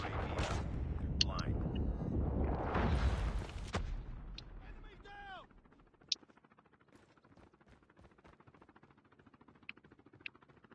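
Gunfire and blasts in the mobile shooter Call of Duty Mobile, a loud burst of shots and booms early on, then quieter scattered single shots over faint game ambience with brief voice lines.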